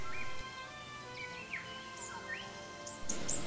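An Australian rufous whistler sings in open bush woodland, giving several short, rising and falling whistled notes spaced out over a faint, quiet background.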